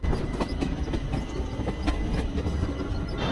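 Sabari Express ICF coaches running on tracks near Ernakulam, heard from onboard as a close, continuous rumble with repeated wheel clacks over rail joints.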